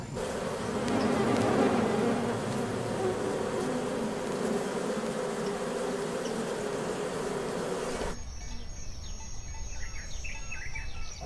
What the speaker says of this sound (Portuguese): E hoje estamos lidando com abelha.